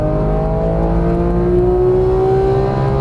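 A Porsche GT3 engine pulls hard on a race track at Exotic Racing in Las Vegas, a loud, steady close-up drone with a slowly rising pitch throughout.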